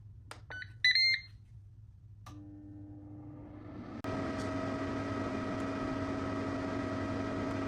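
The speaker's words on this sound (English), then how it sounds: "Air fry at 180 degrees centigrade for 5 minutes." An air fryer cooking 200 grams of blueberries at 180 degrees centigrade: a few short, high electronic beeps come first, then a steady fan hum starts up and grows louder and fuller partway through, running on alone.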